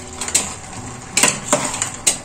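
Rice gently stirred in a pot with a spoon, with a few light metallic scrapes and clinks against the side, spaced irregularly over a soft background hiss.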